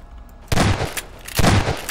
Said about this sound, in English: Can you hear me shooting?